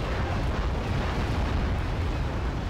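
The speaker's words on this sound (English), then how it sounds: "anti-tank missiles are kicking ass" Anti-tank missile blasts in an Act of Aggression multiplayer battle merge into a continuous, dense rumbling roar, heavy and steady throughout without clear separate impacts or voices.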